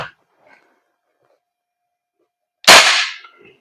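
VFC Knights Armament SR16 E3 MOD2 airsoft gas blowback carbine fires a single sharp, close shot after near silence, with a faint click just before.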